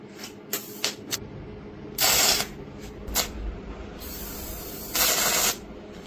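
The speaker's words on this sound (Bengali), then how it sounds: "এটা মিগ ওয়েল্ডিং, যেটা আর্গান ওয়েল্ডিং, ওই ওয়েল্ডিং মেশিনটা এসেছি। দেখেন আপনাকে আমি চালিয়ে দেখাচ্ছি।" MIG (argon) welding machine working on thin sheet metal: short crackling hissy bursts, a couple of quick taps then two longer loud sizzling runs, close up with no talk.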